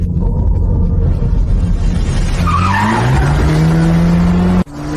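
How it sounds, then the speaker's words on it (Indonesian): A Volkswagen Santana skids with loud, close tires squealing, a rising screech over the rumble of the engine that cuts off abruptly at the end. "Mobil Santana punya Darmawan memang kencang"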